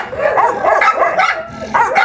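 A pitbull barks close and loud in a quick run of sharp, yappy barks with a whiny edge, several in succession with a brief pause before a final burst.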